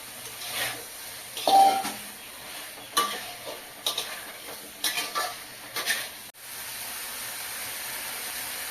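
Cut gourd stems, papaya and potato tossed into spiced oil in a pan, with a soft sizzle under several metallic clanks and scrapes of a spatula, close by.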